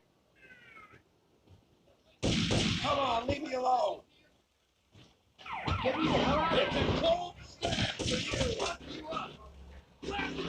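A police siren sweeps up and down amid loud GTA Liberty City Stories game action, with brief chatter and bursts of noise around it.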